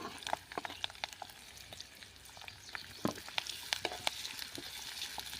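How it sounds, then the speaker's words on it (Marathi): Chopped onion frying in a kadhai with curry leaves, a dense steady sizzle with crackling pops close by, running throughout without talk. "आपण जो बारीक कट केलेला कांदा आहे तो टाकून घेऊया"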